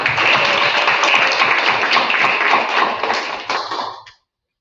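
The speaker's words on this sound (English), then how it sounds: "Let's give one more applause for Mr. Shawn." An audience at a youth mentoring program's culminating ceremony gives a sustained round of applause, close and full, with dense, bright clapping for about four seconds before it cuts out.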